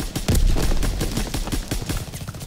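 Rapid gunfire from an M1A1 carbine in the video game Call of Duty WW2: a dense burst of sharp, loud shots fired in quick succession, close and unbroken, with no voice over it.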